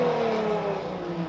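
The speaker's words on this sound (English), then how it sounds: "Just burnouts, revs and accelerations." A supercar at the 2018 Goodwood Festival of Speed revs hard and accelerates away, one loud, sustained engine note that stays close and steady for a moment without any talk.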